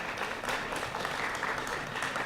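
Faint, steady applause from diners at a chamber of commerce awards banquet, an even wash of clapping heard from a distance with no voices over it.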